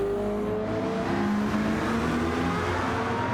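A race car engine in Gran Turismo 7 drones steadily and loud throughout, with a sustained tonal whine that shifts slightly in pitch as the car brakes and closes on another car, no voices.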